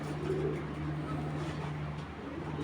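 A racer pigeon coos softly, low and murmuring, close by beneath a steady background hum that runs throughout.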